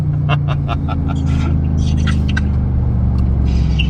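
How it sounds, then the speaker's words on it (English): A Lamborghini engine turns over and settles into a deep, steady rumble close by, with a series of sharp clicks and taps over it in the first seconds. "I heard your Lambo turn on"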